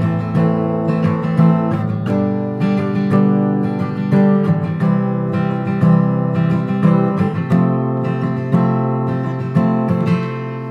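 Close, loud guitar chords strummed in a steady rhythmic pattern of down and up strokes, ringing continuously with no talking.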